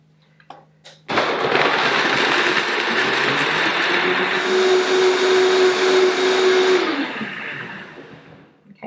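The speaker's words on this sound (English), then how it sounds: "We'll get that in the blender and start blending." A countertop blender whirs loudly for several seconds, blending soy milk, spirulina and banana into a shake, starting abruptly after a quiet moment, holding a steady grinding roar with a rising tone, then winding down.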